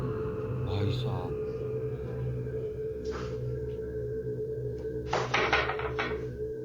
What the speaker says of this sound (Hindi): पहले कुछ शोर तो के साथ दरवाजा धीरे से खुलता है